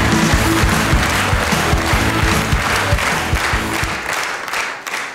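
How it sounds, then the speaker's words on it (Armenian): An audience applauds guest actors at the Vitamin Club program, a steady wave of loud, close clapping that holds for several seconds before fading slightly at the end. "Այս ծափարությունները ձերն էին."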